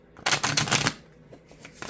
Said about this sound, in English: Okay, now there are a couple shuffles.